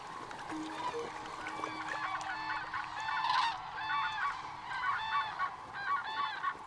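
Cranes gather at a major resting place on the Baltic coast of Central Europe, where a dense flock keeps up overlapping trumpeting and honking calls at a fairly close range.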